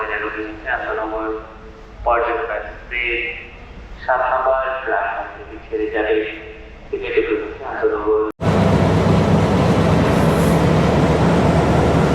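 The Paryatak Express to Cox's Bazar at Kamalapur railway station in Dhaka: someone talks for several seconds, then a loud, steady broadband rumble of the train and station takes over abruptly and continues to the end.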